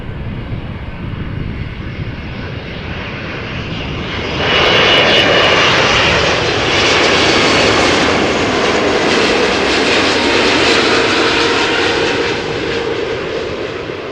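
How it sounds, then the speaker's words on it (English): A Boeing 777-200 arrives at Amsterdam Schiphol Airport with a loud, sustained jet engine roar that builds and then holds steady, heard alone. "Triple 7-200 arriving from Toronto."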